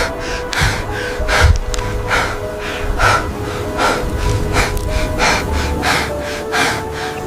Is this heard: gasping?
yes